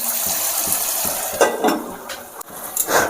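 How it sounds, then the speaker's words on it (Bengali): Khichuri made with Gobindobhog rice and dal is stirred in a cooking pot, giving soft scraping and clinking strokes at an uneven rhythm over a steady background hiss. "তো এবার আমি সুন্দর করে একটু নাড়িয়ে চাড়িয়ে নেবো"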